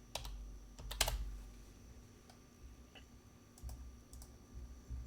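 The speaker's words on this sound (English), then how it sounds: "I'm going to type in gap in capital letters." Quiet, close typing on a computer keyboard: a quick cluster of clicks, then sparse scattered taps and a few more keystrokes, with no talking.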